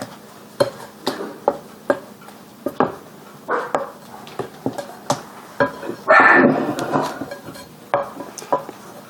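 Buffalo chicken jalapeño cheese dip being stirred in a dish, giving a series of sharp utensil clacks and scrapes against the bowl in an uneven rhythm, close and fairly loud, with one brief louder scraping burst midway.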